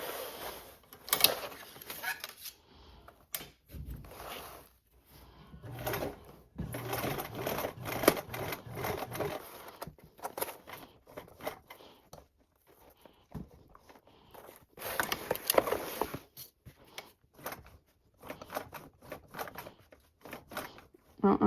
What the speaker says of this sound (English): I'm just hand cranking so I can ensure that I end up in the same stitch line